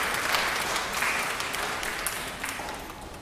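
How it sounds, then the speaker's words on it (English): A church congregation claps at an Anglican Father's Day service, with steady applause filling the room for about three seconds at an even level and no distinct voices. "Elizabeth, give her a round of applause for taking care of the children."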